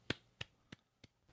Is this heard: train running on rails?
no